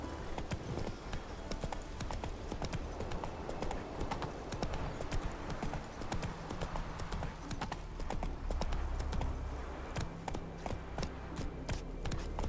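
Horse hooves clip-clop steadily at a riding pace in the Witcher 3 game world, a continuous close rhythm of hoofbeats with a faint ambient bed beneath.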